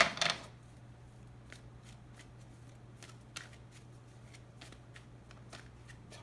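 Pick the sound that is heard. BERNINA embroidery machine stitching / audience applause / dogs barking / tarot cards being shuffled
tarot cards being shuffled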